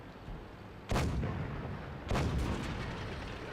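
Two heavy tank cannon shots in World of Tanks ring out about a second apart, each a sharp loud boom with a lingering rumbling tail, over steady game background noise.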